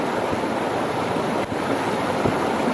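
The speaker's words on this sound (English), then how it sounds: "So you want to just dunk it right in the stream, get it nice and wet," Pine cones dunked into a flowing wilderness stream, a steady close rush of water with a few soft splashy bursts as they go under, continuous and fairly loud throughout.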